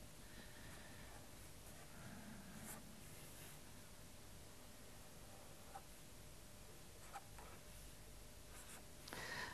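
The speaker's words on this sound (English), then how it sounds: "It's quite easy to draw Santa, isn't it, really?" A pen draws a Santa figure on a card, making faint continuous scratching and scribbling over steady background hiss, with a few brief louder strokes and a scrape near the end.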